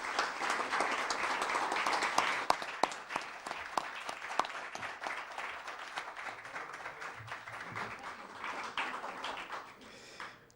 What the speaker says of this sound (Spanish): les pido a todos un fuerte aplauso para él